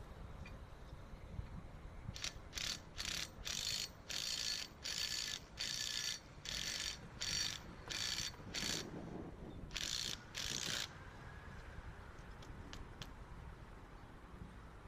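A ratchet tightens fasteners that attach an aluminum canopy bracket to a wall, giving about a dozen short, evenly spaced bursts of rapid clicking close by, with no talking.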